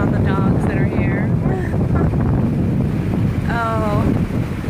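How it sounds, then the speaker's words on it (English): Strong wind on a Galveston beach roars and buffets steadily against the microphone at high volume, with faint bird calls and chatter in the background. "it's crazy windy"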